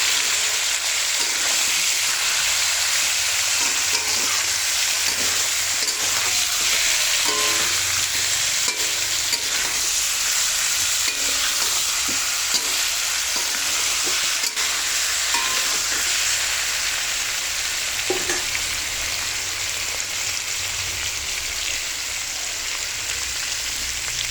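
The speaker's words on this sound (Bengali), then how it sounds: "নাড়াচাড়া করে নেব" Hilsa fish fries in a pan with a constant loud sizzle and hiss, while a utensil is pushed through it now and then in soft scraping stirs over nearly half a minute, with no talking.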